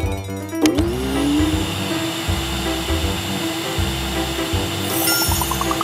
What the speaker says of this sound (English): She brought a vacuum cleaner!